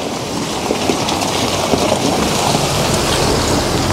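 Heavy rain pours down steadily with a dense, continuous hiss of drops drumming on surfaces, loud and unbroken from start to finish, with no voices.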